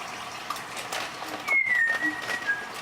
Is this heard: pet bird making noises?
yes